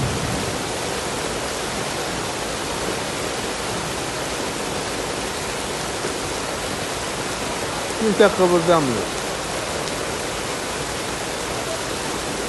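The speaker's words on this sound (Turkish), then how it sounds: "Halde felaket yağmur yağıyor." Torrential rain during a flood in Kayseri, with water pouring and rushing in a constant loud hiss that drowns out most other sound. Someone speaks briefly in the middle over it.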